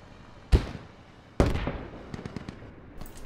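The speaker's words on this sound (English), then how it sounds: "Humvee is under fire." Gunfire at a Humvee in the video game Squad: two sharp, loud blasts a second apart, followed by a string of fainter, rapid distant cracks.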